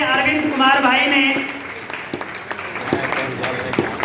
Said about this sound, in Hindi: अरविंद कुमार सनोप सिवदार, जोरदार तालियां।